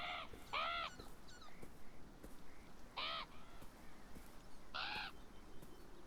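Crows caw in a video game scene, a few loud harsh calls in separate bursts, some doubled, over a faint steady ambient background with no talking.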